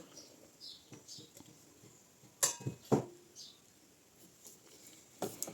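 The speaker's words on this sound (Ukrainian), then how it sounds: "Розмішую" A spoon stirs sugar into redcurrant juice in a pot, giving scattered light clinks and scrapes with a few sharper knocks against the container.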